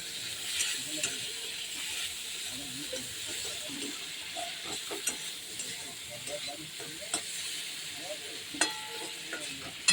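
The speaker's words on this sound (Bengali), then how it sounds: "আমরা চিংড়ি মাছটা লাল লাল করে ভালোভাবে ভেজে নেব" Steady sizzling of shrimp frying in hot oil, with occasional stirring clinks and scrapes close by, no voices.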